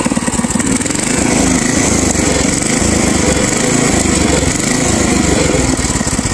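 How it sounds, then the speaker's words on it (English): An old farm tiller's small engine runs steadily and loudly nearby, a continuous rough chugging drone with no pauses. "I don't want to leave this damn old tiller running"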